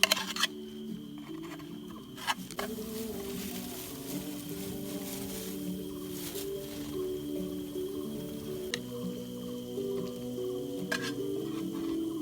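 Nuggets sizzle steadily in a pan on a campsite stove during a mountain hike, a constant close frying hiss with a few sharp clicks and knocks from the pan.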